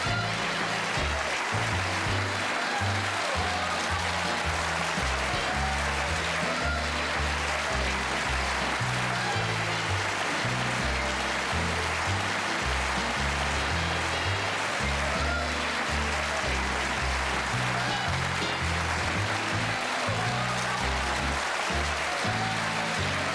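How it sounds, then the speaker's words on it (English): Studio audience applause closing out a late-night Johnny Carson Tonight Show episode, a dense steady wash of clapping running throughout with band music faintly underneath. "I'm humbled by that applause."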